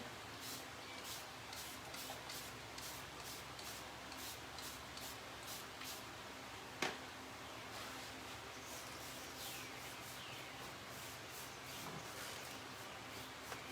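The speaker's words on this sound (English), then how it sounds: "don't forget to spray your next drawer." Quick hissing sprays from a spray bottle onto a dresser drawer repeat in a steady rhythm, close and fairly soft, with a single sharp tap partway through.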